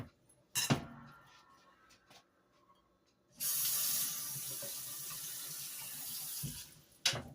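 Water runs from a kitchen tap during dough mixing: a brief splash early on, then a steady hissing stream for about four seconds that stops, followed by another short splash.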